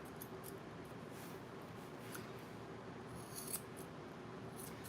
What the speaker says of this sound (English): I like the curved scissors.